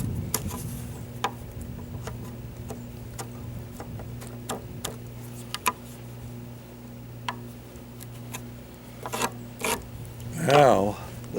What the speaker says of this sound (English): you want to make sure that your chisel is sharp so it does the job